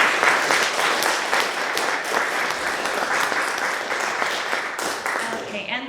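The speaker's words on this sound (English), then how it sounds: "So if anybody wants to clap for her." An audience claps for a singer-songwriter who plays guitar and banjo, with steady, dense applause running throughout, close and loud, then tapering near the end under a faint voice.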